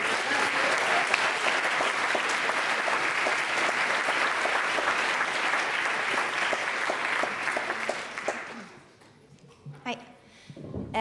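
Audience applause greets a performer at a poetry slam, a dense, steady clapping that fills most of the clip and then fades out near the end as a voice begins.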